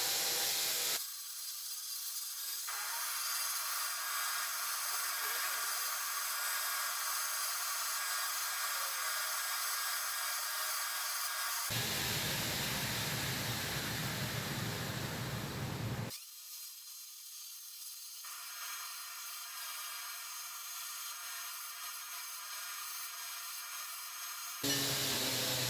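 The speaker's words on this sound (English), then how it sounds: "I start the grinding with coarse sandpaper and gradually move to finer grits" Coarse sandpaper works along the back of a tantō knife blade, a continuous close hiss of abrasive grinding that runs in long, even stretches, briefly changing character midway before resuming.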